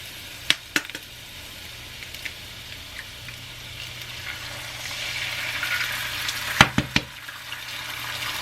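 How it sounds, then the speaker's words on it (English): Eggs dropped into a hot frying pan while making tamales, giving a steady broad sizzle throughout with a few sharp clinks and taps of utensils near the start and again late, no talking. "I'm gonna go ahead and add my eggs."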